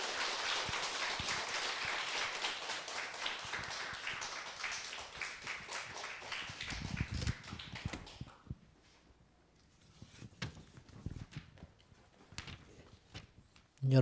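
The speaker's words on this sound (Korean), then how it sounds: "우리 목사님 나오실 때 하나님께 감사와 영광의 박수 드리겠습니다." A church congregation in a basement worship hall claps for an arriving pastor, a dense, sustained wash of applause that gradually thins out into scattered claps and quiet.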